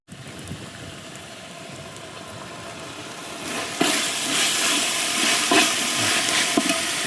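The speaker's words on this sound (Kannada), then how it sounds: "ಇದನ್ನು ಇವಾಗ ಚೆನ್ನಾಗಿ ಫ್ರೈ ಮಾಡ್ಕೊಳ್ಳೋಣ" Ingredients frying in a pan for egg dum biryani, a steady close hiss and sizzle that grows louder and brighter midway, with occasional clinks and stirring scrapes.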